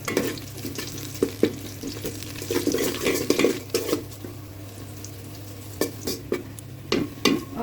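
Onions frying in hot mustard oil for tehari, a steady close sizzle with intermittent stirring and scraping clatters against the pan, no talking.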